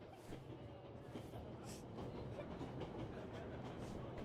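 A train rolling steadily along, a continuous broad rumble with faint rhythmic rattling, holding an even level for the whole stretch with no talk over it.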